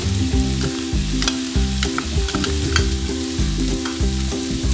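Carrot, tomato and corn stirred in a hot pan with chilli, a steady close sizzle of frying under repeated scraping strokes of a spoon against the pan, no talking.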